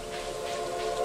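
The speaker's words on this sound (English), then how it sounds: "There it is. That is a train." A train in Stardew Valley sounds a brief, steady whistle-like tone lasting about a second, moderately loud with no talk over it.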